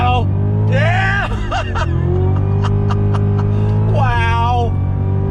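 A Cadillac CTS-V performance sedan under hard throttle, heard from inside as a loud, deep engine drone with a rising gear pull, a shift near the middle and another climbing surge at the end, with voices over it.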